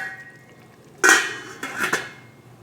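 A metal lid set onto a cooking pot while cooking Filipino sotanghon chicken guisado: a sharp clink and clatter, then a second lighter rattle as it settles, close and clear over a quiet background.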